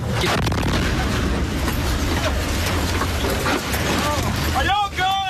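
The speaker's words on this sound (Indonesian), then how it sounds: "Seperti inilah situasi mencekam ledakan keras rudal balistik Iran sangat dekat dengan tentara Amerika." An Iranian ballistic missile explodes near American soldiers, heard as a sustained loud, rumbling roar of blast noise that fills the whole stretch, with a voice coming in near the end.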